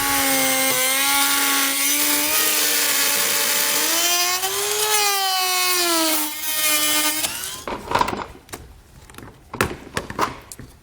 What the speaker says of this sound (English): So now we can come back with our Dremel tool now. We can go ahead and cut out our openings.